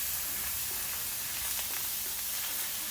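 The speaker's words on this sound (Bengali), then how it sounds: "এখন সব মশলাগুলো একটু ভেজে নিব।" Ground cumin, garlic and ginger pastes with a clove frying in a pan for prawn malai curry, giving a steady, close sizzling hiss with faint crackles.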